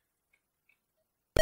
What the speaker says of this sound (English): Whenever you catch a brick in the bucket, you get a nice little beep.